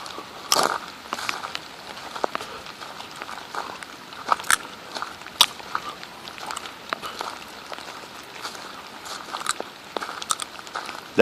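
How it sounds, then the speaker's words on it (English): Sunflower seeds cracked and crunched between the teeth outdoors on a rainy walk with dogs, a loose series of sharp close crunches and bites scattered over soft background noise. "That crunching sound is me eating my sunflower seeds."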